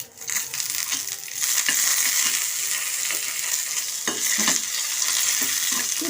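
Cumin seeds and curry leaves sizzle and crackle steadily in hot oil while tempering for a peanut coconut chutney, a close, continuous frying hiss broken by a few stirring clinks, with no voices.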